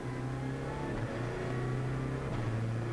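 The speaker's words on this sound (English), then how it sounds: "We'll just go quiet for a second and the diesel will do its stuff." A diesel BTCC touring car accelerates out of Russell corner at Snetterton in 2008, a steady, moderately loud low engine drone that holds level for several seconds, with no voices over it.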